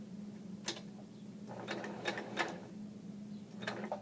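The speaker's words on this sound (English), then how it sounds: "I'm going to slowly sew" A sewing machine stitches ribbon slowly, giving a quiet steady hum broken by several short mechanical clicks and ticks as the needle cycles.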